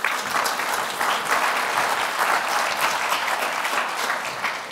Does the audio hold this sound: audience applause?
yes